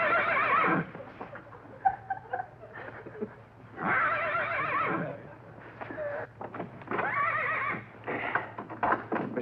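A horse whinnies loudly and repeatedly in three long neighs with shorter snorts and hoof knocks between them, heard close and clear in a television sitcom scene.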